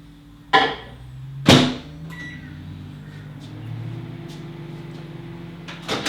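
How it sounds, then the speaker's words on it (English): A microwave oven runs in a kitchen during cake decorating: a couple of sharp clunks or beeps near the start, then a steady low electrical hum that drones on to the end. "Microwave."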